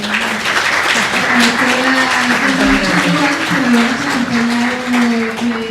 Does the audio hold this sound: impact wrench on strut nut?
no